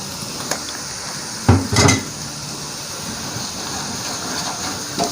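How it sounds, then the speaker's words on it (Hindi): Spices are stirred into onions in a pot for sultani daal, with a couple of scraping metal clinks of the spoon over a steady frying hiss, no voices. "मसालों को हम करेंगे अच्छी तरह मिक्स,"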